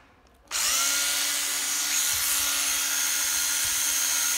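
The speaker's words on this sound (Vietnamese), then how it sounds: "Khoan 12V mà trang bị cái đầu 13 ly là rất là mạnh nha mọi người" An old Japanese 12V cordless drill with a 13 mm chuck starts up abruptly and runs at a steady high-pitched whine, loud and close, with no talking.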